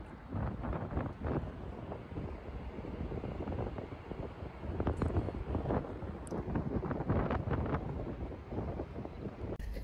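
Steady wind buffeting outdoors on the deck of the cruise ship Queen Mary 2, with rushing gusts and low rumble, continuous and fairly loud throughout with no talking.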